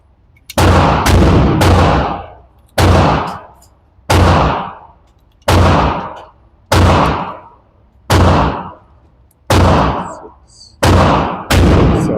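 Ruger 1911 pistol fired at an outdoor range, about eleven sharp loud shots, a quick trio at the start and then evenly spaced single shots roughly every second or so, each with a short decaying tail.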